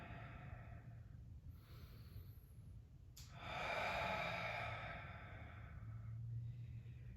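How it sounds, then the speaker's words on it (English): Slow, deep breathing during a guided yoga exercise: a long, airy inhale and exhale swell up near the microphone, with quieter breaths before and after and no talking. "Keep breathing nice and deep here."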